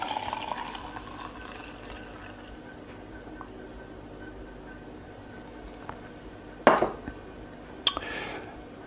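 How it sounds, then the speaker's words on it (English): Celery juice poured into a 16 ounce glass: a quiet room with faint liquid trickling, then a sharp splash and a second brief clink or splash near the end. "So I'm gonna pour what we need in here."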